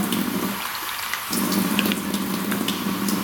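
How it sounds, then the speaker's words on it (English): Water pours and splashes steadily into a bowl of semolina and sugar nearby, a continuous hiss with a brief dip in the middle. "mixing it with some water now."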